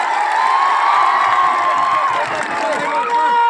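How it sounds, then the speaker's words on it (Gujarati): A large crowd at an outdoor political rally claps and cheers continuously, a dense, loud wall of applause and shouting with a voice over a public address system riding on top. "બધા માટે એકવાર તાળીઓ પાડીએ"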